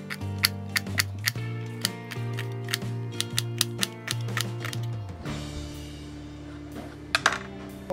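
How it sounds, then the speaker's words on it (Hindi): A knife chops onions into long strips on a board, with a steady series of sharp taps over a sizzling pan and a continuous background hum. "तो जब तक ये पक रहा है तब तक हम लोग ऑनियन लंबे लंबे में काट लेते हैं."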